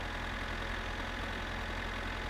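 The idling tractor in My Summer Car holds a constant, loud rumbling drone with a low rhythmic throb beneath it, steady from start to finish and without voices.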